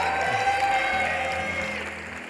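Miss World 2013 pageant audience applauding in a large hall, a steady wash of clapping with music tones over it, holding loud for a couple of seconds before easing slightly.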